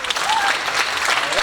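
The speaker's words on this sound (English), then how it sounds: "please give them a big round of applause" Audience applause at a high school band concert, dense continuous clapping from a crowd filling the room, loud and steady throughout.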